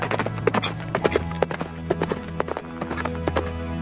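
A cartoon-style horse gallops in a quick, steady clip-clop rhythm of hooves, close and fairly loud, continuing without a break and carrying no speech.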